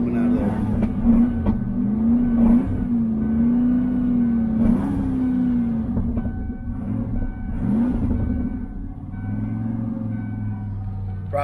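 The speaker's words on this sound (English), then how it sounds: "Probably shouldn't rev her so hard when she's cold and hadn't been running a while." A cold antique truck engine that has not run for a while, revved hard in repeated uneven surges and a rough, rumbling idle, loud and close.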